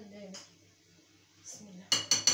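A spoon stirs Eid fatta of bread, soup and rice in a metal pot: soft scraping under a brief low voice, then three sharp, close metallic clinks in quick succession.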